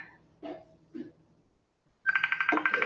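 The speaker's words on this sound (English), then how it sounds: "I'm just going to answer the phone" A telephone rings in an office during a party, coming in as a loud, bright electronic ring that repeats continuously in the final second, preceded by a few short faint sounds and a brief silence.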